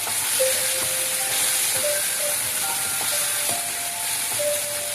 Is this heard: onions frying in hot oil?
yes